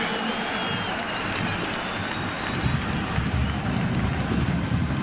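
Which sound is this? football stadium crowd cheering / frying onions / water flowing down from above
football stadium crowd cheering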